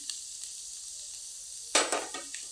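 Mushrooms in hot oil with mustard seeds and curry leaves: quiet crackles and pops, then a sudden loud hissing sizzle that flares and tapers off.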